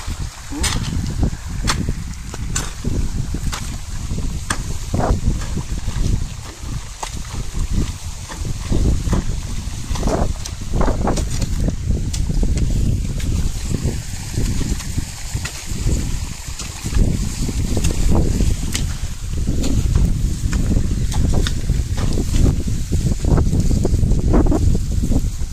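A small irrigation water pump motor drones steadily with rushing, splashing water throughout, watering grass, loud and continuous, with occasional voices in the background.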